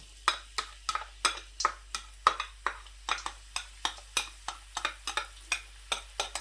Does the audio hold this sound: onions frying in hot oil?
yes